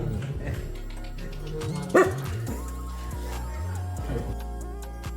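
A dog by a house barks once, loud and close, at unfamiliar visitors, with a steady droning hum and shifting background tones around it.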